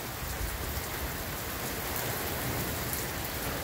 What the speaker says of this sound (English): all it is just rain, dude. Lots of rain.